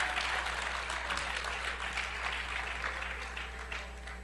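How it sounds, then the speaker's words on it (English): A church congregation applauds and claps together during a sermon, a dense, steady wash of hands that stays fairly loud throughout and slowly eases off toward the end, with no talking over it. "Just give big hands for Jesus Christ, who's your Savior."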